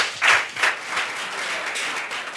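A brief burst of audience applause for colleagues at an agricultural talk, close crowded clapping that swells at the start and then settles into a steady patter.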